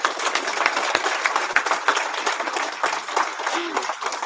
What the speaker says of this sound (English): please give her another round of applause, please.